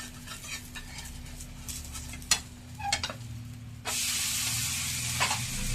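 An uttapam sizzles steadily on a hot griddle, with soft scrapes and taps as it is turned over, then the frying hiss jumps louder and fills the sound once the flipped side hits the hot surface.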